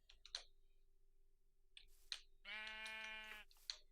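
Sheep in a video game: one clear, loud bleat near the middle, set among short clicking taps and a faint steady hum.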